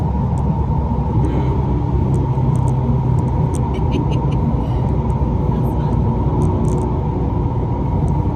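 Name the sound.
car driving fast at 125 mph, Mustang or Camaro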